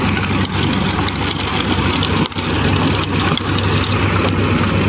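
Swaraj 963 tractor driving a mulcher through kuchi kaadu scrub, a steady loud low engine drone with a continuous dense mechanical roar throughout, no talk.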